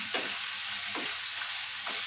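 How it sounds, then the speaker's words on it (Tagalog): Steady frying sizzle of chicken in a pan, continuous crackling with a few soft stirring scrapes, close and fairly loud. "Kayaan lang natin na maprito-prito yung ating chicken."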